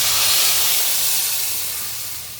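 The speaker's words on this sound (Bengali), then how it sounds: "পরিমাণ মতো জল দেবো" Water goes into a hot pan of fried taro and green chillies, raising a loud, dense steamy hiss that slowly fades as it settles; no voices.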